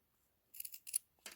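Scissors snip through fabric and a foam corner on a sewing embellishment project, a quick run of three or four close, crisp cuts, then a short pause and one more cut.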